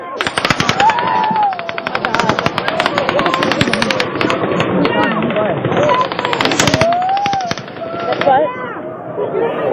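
Sustained bursts of automatic gunfire from the Mandalay Bay during the Las Vegas shooting crackle rapidly and loudly, with brief pauses between volleys, while people shout and talk in the foreground.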